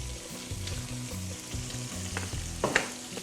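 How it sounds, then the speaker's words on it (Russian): Zander fillets frying in a pan for a recipe with tomatoes, giving a steady close sizzle and crackle with a soft stir or scrape near the end, and no talking. "Жарим 2 минуты с одной стороны."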